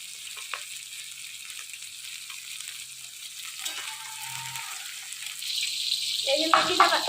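Rohu fish fries for chutney, giving a steady hiss of oil throughout that swells louder toward the end with a few utensil clinks.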